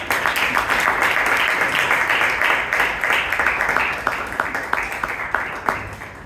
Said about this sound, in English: Can we have a big round of applause for Toastmaster Alagammai?